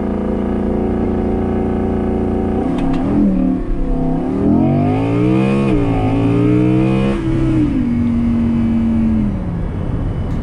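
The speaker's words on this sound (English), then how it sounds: "That's why I've left the engine running" A manual Audi R8 with a V10 engine runs loudly up close, holding a steady idle before revving up and down in several sweeping rises and falls, then settling back to a smooth hum.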